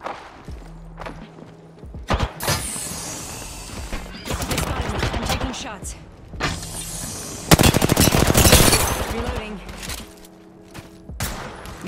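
Gunfire in Apex Legends arrives in several bursts of rapid automatic shots, some near and loud, with quieter gaps and thuds in between.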